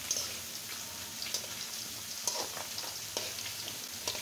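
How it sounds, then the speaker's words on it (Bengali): Dried lentil bori dumplings frying in oil, a soft steady crackle with a few sharper pops scattered through, fairly quiet and with no voices. "এখন আমি প্রথমত এই যে ডালের বড়িটা ভেজে নেব।"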